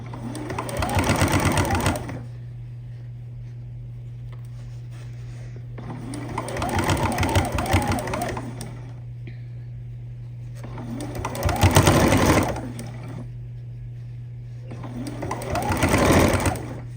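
Sewing machine stitching fabric round coasters, four loud bursts of rapid mechanical stitching separated by pauses, with a steady low hum running underneath throughout.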